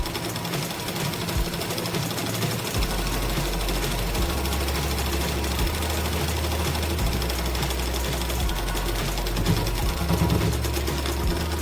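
A sewing machine stitches a blouse seam, running steadily and loudly through the whole stretch with a low mechanical hum and rapid needle chatter, no voices.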